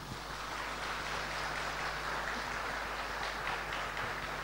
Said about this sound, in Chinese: 我们大家给自己跟所有一切人就一次热烈的掌声吧